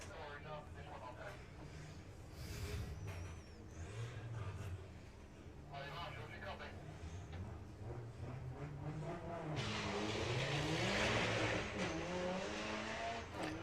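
A Volkswagen drag racing car makes a run at Santa Pod Raceway during Festival of Power qualifying, its engine roaring with rising and falling pitch and tyre shake, while a commentator talks continuously over it.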